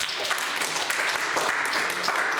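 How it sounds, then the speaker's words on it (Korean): Church congregation applauding during a Korean service, a dense, even wash of hand claps at moderate volume throughout, with no voices over it. "박수 한번 부탁드리겠습니다."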